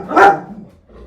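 Winnie the dog lets out a single loud, close bark that fades quickly, indoors while someone waits at the front door.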